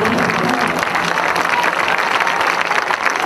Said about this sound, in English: So have a big round of applause for Ryan Peter